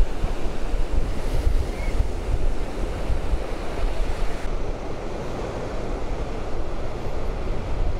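Sea waves breaking on the rocky shore at Punta del Hidalgo, Tenerife, a loud, continuous wash of surf with heavy wind noise buffeting the microphone, steady throughout with no voices.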